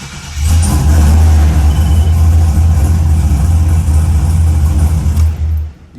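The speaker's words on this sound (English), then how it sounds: "once I start the car up, check engine light go off" A car engine fires up close by and settles into a loud, steady running rumble with a strong low drone, then cuts off abruptly at the end.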